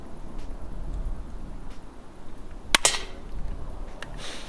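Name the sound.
gunshots, probably from a video game shooting match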